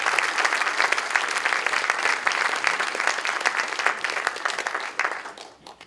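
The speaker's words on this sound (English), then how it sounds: "Round of applause," Sustained audience applause at a lecture on housing and city design, dense and steady for several seconds before tapering off at the end.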